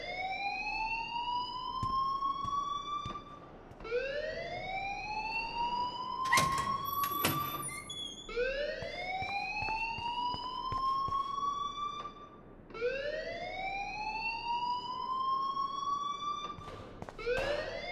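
A fire alarm rings in Life Is Strange, a loud repeating electronic siren that rises in pitch and then holds, cycling about every four seconds with a brief clatter midway. No one speaks.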